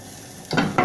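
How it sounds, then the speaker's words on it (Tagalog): Garlic hits a pan for a cod and prawn chowder base: quiet at first, then two bursts of scraping stirring and sizzle close by, with utensil contact against the pan. "Una, igisa natin to garlic."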